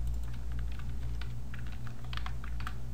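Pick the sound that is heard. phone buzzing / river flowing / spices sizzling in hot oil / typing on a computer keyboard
typing on a computer keyboard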